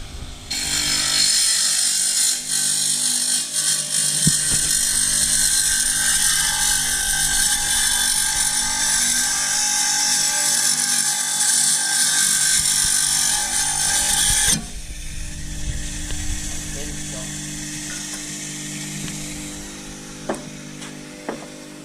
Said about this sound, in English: So all this is it's a spinning blade. There's actually no teeth on it. It's a diamond blade, and it's sprayed.